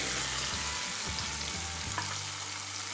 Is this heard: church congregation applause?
no